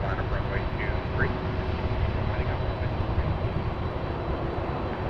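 Airliner on the runway at Toronto Pearson Airport, a steady broad jet engine roar held at constant level throughout, with a faint radio voice and chirping in the background.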